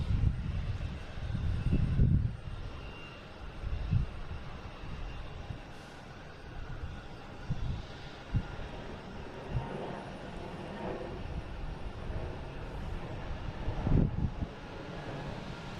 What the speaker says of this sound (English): Heading to Toronto, A220, flight 765.